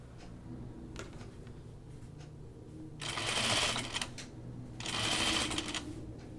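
A sewing machine stitches down the facing of a caftan garment in two short, even bursts of rapid needle chatter, separated by quiet pauses in a calm room.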